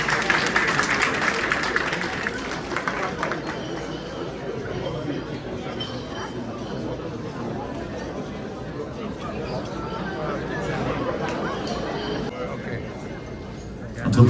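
Audience at a success gala clapping in a steady, dense wash of applause that carries through the whole stretch, with crowd murmur mixed in and a louder burst right at the end.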